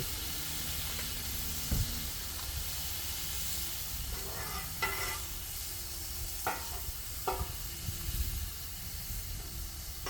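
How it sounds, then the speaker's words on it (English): Soft steady hiss and sizzle from cabbage steaming with a little water in an uncovered pan, with occasional stirring scrapes and clicks breaking through at intervals; no talking. "I'm going to try a little water on that cabbage. Try to steam it without a lid."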